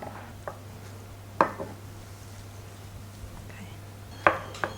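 Basmati rice is mixed into a gołąbki filling in a bowl with a utensil, giving a few sharp clinks and scrapes spread over a soft, quiet background with no talking.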